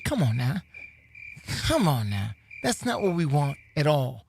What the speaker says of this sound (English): No, don't put crickets on